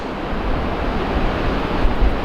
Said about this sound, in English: This is Bullard Beach